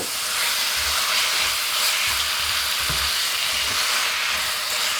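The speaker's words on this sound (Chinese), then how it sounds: "配菜炒至8成熟，加入肉丝，翻炒均匀。" Side vegetables and shredded meat stir-fried in a hot wok, a steady loud sizzle and hiss with soft scraping and stirring thumps underneath, no voices.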